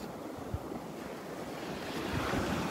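Waves breaking and washing up on Vanderbilt Beach before sunrise, a soft continuous surf roar with wind noise, a few small crests of louder breakers, no voices.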